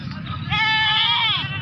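A goat bleats loudly and close by at a livestock market, one drawn-out wavering cry over a busy background with people talking.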